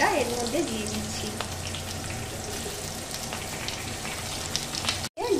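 Mango pieces dropped into hot tempering oil for a sour mango dal, giving a steady close sizzle and crackle of frying throughout, with a brief pause near the end.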